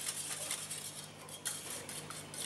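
Eggs with a drop of vanilla extract are beaten briefly in a bowl, a quiet run of light clinking and scraping strokes from a utensil against the bowl, close and soft.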